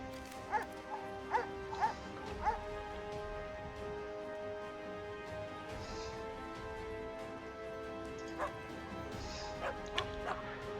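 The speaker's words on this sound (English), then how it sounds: "What's up with this dog?" Short, yappy dog barks come in clusters from a digital card game during a cube draft, set over a steady musical backdrop, with a brief gap in the middle.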